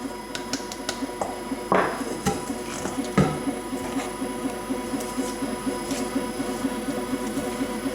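An electric mixer whips sour cream on its lowest speed for a cherry cake: a steady, close whir with a fast rhythmic rattle and a few sharper clicks, and no talking.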